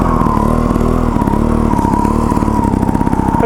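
A Gas Gas TXT 280 trials motorcycle engine chugs at low revs close by, a loud, steady rapid thumping drone with slight pitch wavers throughout.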